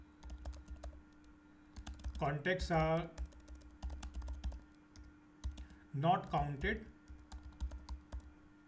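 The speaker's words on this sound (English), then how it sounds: "So message I'm typing" Typing on a computer keyboard sounds as a steady run of soft, close key clicks through the whole stretch, while a person talks briefly in two short bursts over the tapping.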